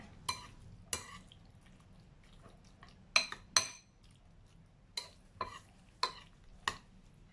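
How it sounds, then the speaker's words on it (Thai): Pork and Thai fermented pork sausage (naem), just microwaved, being stirred in a bowl: scattered sharp clinks and scrapes of a utensil against the dish, about ten distinct knocks spaced irregularly, close and fairly quiet with no talking. "ให้เราคนเนื้อหมูแล้วก็แหนมนะคะ ไม่ให้จับตัวกันเป็นก้อนนะคะ"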